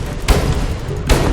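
Two deep booming blasts from bombs detonating in the SkyForge online action game, spaced about a second apart, loud and close over a steady rumbling game backdrop.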